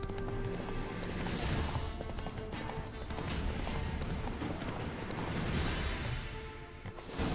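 Geralt's horse Roach gallops in The Witcher 3, a steady rapid clip-clop of hooves running continuously at close range, with a brief neigh, and no talking over it.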